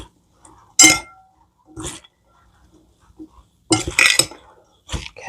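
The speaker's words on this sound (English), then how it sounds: "Let me mix this up." Cabbage slaw is tossed in a bowl, giving a few separate close clinks and scraping knocks of utensils against the dish, with quiet gaps between them and a busier clattering burst near the end.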